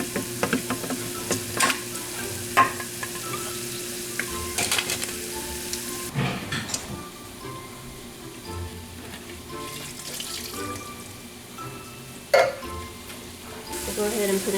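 Chicken for a southwest BBQ casserole sizzles steadily in a pan while being stirred, with occasional clinks and scrapes, some running water, and brief faint talk in the background.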